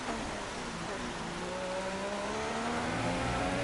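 A Formula One race car from F1 2016 drones steadily in the rain, its engine pitch climbing slowly through a gear. Rain hiss fills the background, and the car sounds close and continuous.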